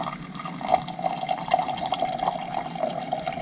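Water trickles slowly from a GE refrigerator's water dispenser, a thin, uneven close-up stream with small pulsing splashes.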